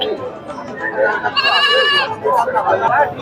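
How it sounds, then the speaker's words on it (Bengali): Goats bleat at a medium-sized village goat market in rural Bangladesh, with local and Indian breeds for sale; a loud, wavering bleat rises near the middle, set among close talk and market chatter. "আমরা আছি ছাগলের হাটে বেশ কিছু ছাগল আছে"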